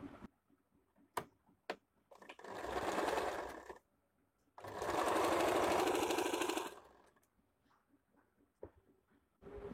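A sewing machine stitches a square-neck A-line nighty in two bursts of rapid whirring, each a few seconds long, separated by quiet pauses broken by sharp clicks and taps.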